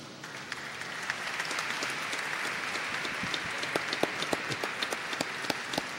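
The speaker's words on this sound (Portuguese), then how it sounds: "uma salva de palmas à grande atriz Ítala Nandi" Applause for actress Ítala Nandi at a solemn medal ceremony, a moderate crowd clapping steadily with distinct individual claps standing out near the end.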